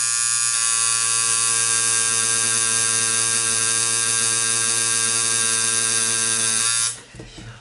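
A tattoo machine runs with a steady, loud electric buzz while tattooing practice skin, holding an even drone for about seven seconds before cutting off abruptly near the end.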